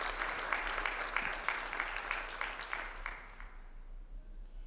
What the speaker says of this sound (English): if you could give a round of applause to both Lolita and Daniela for being willing